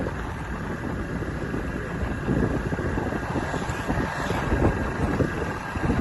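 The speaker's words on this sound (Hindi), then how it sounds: "आज गर्मी कम है थोड़ी सी ना, हवा चल रही है" Steady, loud wind buffeting a microphone while riding a motorbike along a road on a mild day, a continuous broadband roar with gusty swells and no speech over it.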